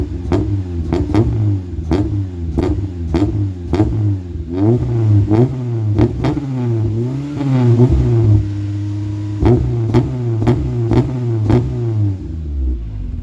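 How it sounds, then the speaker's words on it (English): A 1991 Honda Civic hatchback ED6 engine idles with a newly fitted exhaust system on a cold first start, a loud close rumble with rhythmic throbbing and sharp periodic ticks, revving slightly midway. "this is the first start with the exhaust system"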